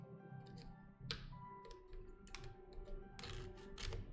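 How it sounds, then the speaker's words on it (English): Fast, uneven clatter of keystrokes on a semi-broken computer keyboard at a desk, with sharper clicks bursting through a steady low room hum. "forgot my keyboard is still semi-broken."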